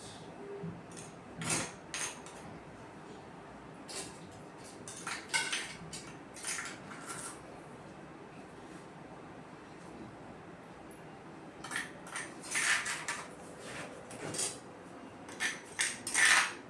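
A spoon clinks and scrapes against a bowl as tomato roti pachadi chutney is stirred, giving soft irregular taps and rubs spread over the clip with quiet gaps between them.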